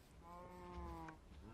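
Minecraft cow lowing once in a drawn-out, close moo, standing alone with no talk over it.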